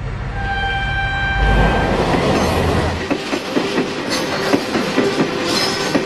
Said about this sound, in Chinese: 594公里的朔黄铁路是中国最繁忙的线路之一，每天 113对列车在这条铁路上穿行